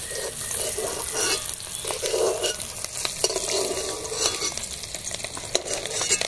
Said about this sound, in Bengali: তেলের মধ্যে লবণ হলুদটা আগে দিয়ে দেই, তারপর ডিমগুলো দিয়ে দিই